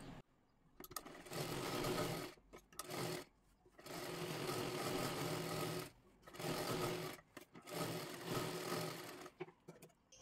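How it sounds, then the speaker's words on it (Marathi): A sewing machine stitches a blouse sleeve seam in several separate runs of whirring stitching, each lasting one to two seconds, broken by brief quiet gaps. "इथून हे पूर्ण शिलाई मारून घ्यायची आहे"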